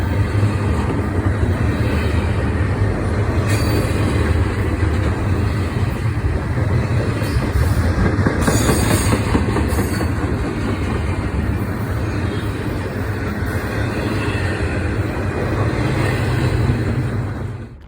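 A long, steady rumble of a freight train rolling past on the tracks in northern Indiana, loud and continuous, with clanking and rattling from the cars and no voices.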